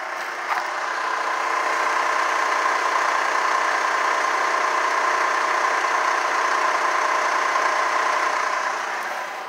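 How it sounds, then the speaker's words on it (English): A 2008 Honda Ridgeline pickup engine with a slight engine noise idles steadily, heard up close from underneath, a constant droning hum with a faint mechanical tick and a high whine running throughout. "I'll send this over to you so you can hear the engine noise"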